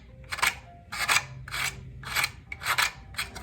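Wooden deck of a model Enterprise being shaved down by hand, with five or six rhythmic rasping strokes, close and fairly loud, each a short scraping burst with small pauses between.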